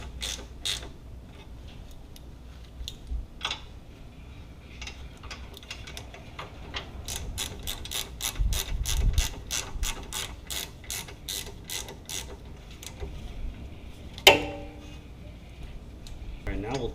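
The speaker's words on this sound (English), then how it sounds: "We're just going to use our ratchet at first to snug these up." A hand ratchet clicks in quick repeated runs while snugging up bolts on a Jeep JK parking brake assembly, close and fairly quiet, with a sharp metallic clank near the end.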